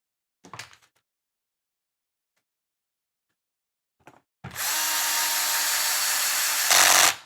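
Power screwdriver driving flathead screws into a bearing build: a brief click, then a silence, then a loud steady whirring that runs for about three seconds and rises slightly in pitch just before it stops.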